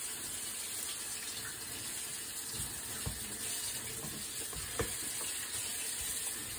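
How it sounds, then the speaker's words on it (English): Pancake batter frying in a pan, a steady close sizzle with soft bubbling and a few sharp clicks and taps, with no voices. "look at those bubbles, that means it has been simmering away"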